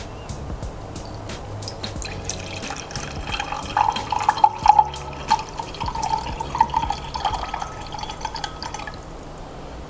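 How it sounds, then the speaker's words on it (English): Distilled water is poured into a container while weighing ingredients for an emulsified body butter, a thin dripping and trickling stream that swells midway before easing off. "what we're looking to use is 124 grams of distilled water. So that's what we are going to go ahead and start pouring up."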